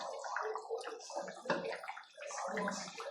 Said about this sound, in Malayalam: 2 സ്പൂണിൽ വെളിച്ചെണ്ണയ്ക്ക് ഒഴിക്കാം.